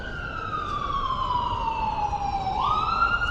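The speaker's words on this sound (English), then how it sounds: "Can you hear the sirens at least?" Police or emergency siren wailing in a New York City street, a steady tone sliding slowly down then jumping back up, loud and continuous over traffic hiss with no talking.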